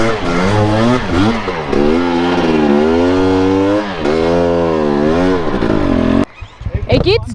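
A motorcycle ridden on a Utah trail, its engine loud and close, repeatedly revving up and dropping back in rising and falling sweeps before cutting off near the end.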